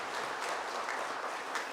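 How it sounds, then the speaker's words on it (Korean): Church congregation clapping during a Sunday worship service, a steady dense patter of many hands filling the room throughout, fairly quiet and even. "다시 한번 박수해 주시면 좋겠습니다."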